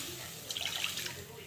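Water is poured into a cooking mixture in a pan, a soft, faint splashing trickle that swells briefly in the middle and then fades.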